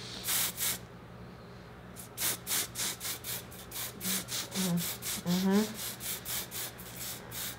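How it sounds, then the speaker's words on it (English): Fine mist from a spray bottle applied to arms, chest and legs comes as a string of short rhythmic hissing bursts, close and soft, with a brief murmur of voices partway through. "So you can also spray it on your arms and décolleté and legs"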